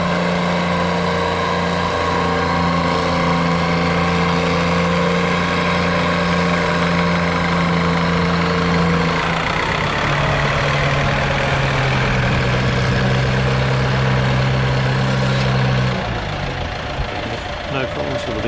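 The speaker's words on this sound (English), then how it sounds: "at the moment the big Chamberlain is pulling this sled in the wet conditions" A big vintage Chamberlain tractor labours steadily while pulling a weighted sled along a wet, greasy track at an outdoor tractor pull, its heavy engine drone loud and continuous with a slight pitch shift partway through.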